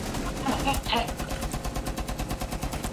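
Rapid automatic gunfire from Rainbow Six Siege crackles in steady, close bursts, with voices talking over the shooting.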